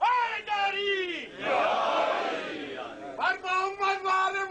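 A crowd at a Muharram majlis gathering shouts a religious slogan in unison, loud massed voices answering between lines led by a single chanting voice, the call and response repeating.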